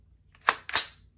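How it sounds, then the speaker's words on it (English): Ruger 10/22 rifle trigger being pulled and reset, giving two sharp, close metallic clicks about a quarter second apart, each fading quickly in an otherwise quiet room. "So here's the trigger pull,"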